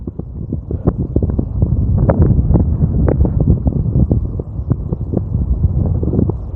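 Strong wind buffets the microphone out on a golf course, a loud continuous roar with gusty thumps and flutters, and no voices.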